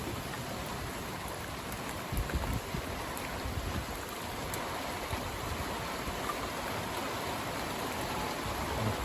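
Heavy rain pours steadily during a stormy February night with gusts, a dense continuous hiss with a few louder spatters, no voices.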